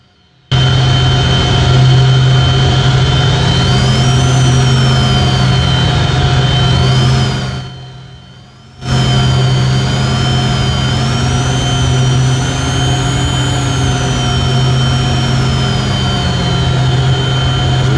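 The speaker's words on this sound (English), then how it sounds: "I can hear them revving the engines" Loud, sustained engine roar from Formula E racing cars in Roblox, pitch rising and falling with revs, cutting out briefly before resuming steadily.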